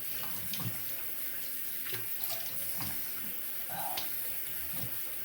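Tap water running into a bathroom sink for rinsing after a wet shave, a steady splashing stream with small clinks and shifts as hands move under it.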